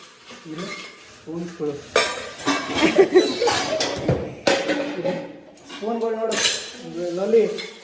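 Metal kitchen pots and vessels clatter and clink as they are handled and set in place while tidying a new home, with bursts of clanking under intermittent nearby speech.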